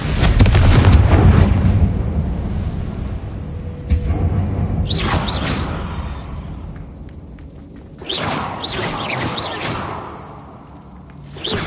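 A Confringo spell cast in Hogwarts Legacy inside a closed-off mine tunnel: a heavy blast with rumbling aftermath, followed by further booming impacts and whooshing bursts that swell and fade in waves.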